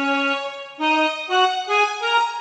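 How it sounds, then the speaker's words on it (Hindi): Yamaha PSR-i455 keyboard set to a harmonium voice layered with a strings dual voice, playing a slow rising sequence of five sustained notes, each swelling in with reedy, bright tone and held smoothly, loud and close with no talking. "तो यह हारमोनियम तो प्ले हो रहा है पर ड्यूअल वॉइस के तौर पर हमने स्ट्रिंग रखा तो स्ट्रिंग भी प्ले हो रहा है।"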